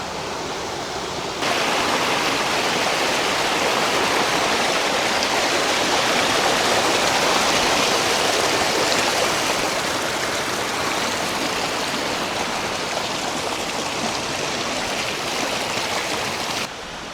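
A mountain stream near a village in the hills of Zhaoqing rushes steadily. The water gives a dense, continuous broadband roar, close and loud throughout, with no voices.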